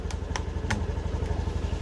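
A 2019 Honda Beat FI motorcycle idles close by after being started, its engine giving a steady, rapid low putter with a few sharp clicks over about two seconds.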